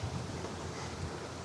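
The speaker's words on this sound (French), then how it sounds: "il y a toujours autant de vent" Wind gusts by the Vieille Lys river in Belgium as a constant, faint, broadband rush with low buffeting against the microphone, and no voices heard.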